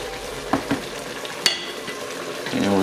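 Spoon stirring coarse ground black pepper into a pot of simmering chili, with a few soft scrapes and knocks over a steady low bubbling sizzle.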